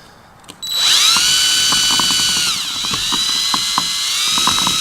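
A power drill mixer whirs steadily while blending homemade DIY seam sealer, starting abruptly and holding a loud high whine that dips briefly in pitch, with faint knocks underneath and no voices.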